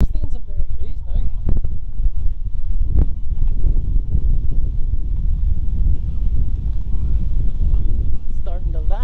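Strong wind buffets the microphone outdoors on a wet, windy day in Normandy, a steady low rumble running the whole time with brief voices and knocks on top.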